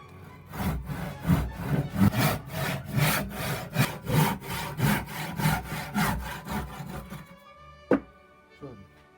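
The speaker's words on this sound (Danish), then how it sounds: "Det er lige fat i saven." Hand saw cutting through a piece of maple wood, a close, steady rhythm of rasping back-and-forth strokes that stops near the end, followed by a couple of light knocks.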